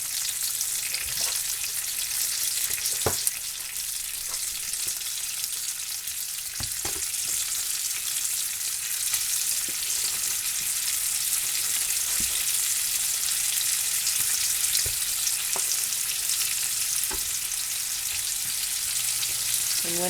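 Breakfast sausage patties frying in a skillet, a continuous bright hiss and crackle with a few sharp pops and clicks as pieces are added and moved.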